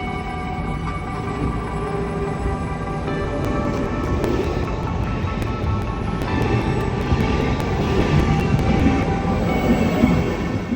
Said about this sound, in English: watch our sleeper train depart, continuing on towards Amsterdam and eventually Brussels